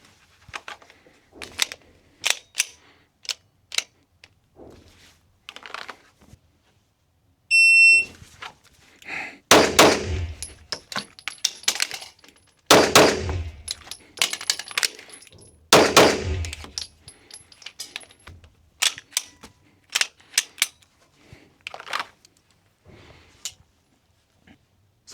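A Glock pistol fires at a target during a timed USPSA competition run: sharp, loud reports in quick clusters separated by brief pauses, with no talking.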